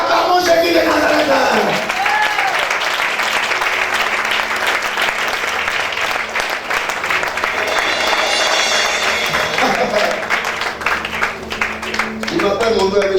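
A seminar congregation breaks into loud, sustained applause and cheering that fills the room steadily, with raised voices mixed into the clapping throughout.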